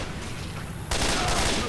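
Gunfire from a Left 4 Dead 2 versus match rattles in a dense, steady burst that thickens halfway through, loud and close, with faint voices mixed underneath.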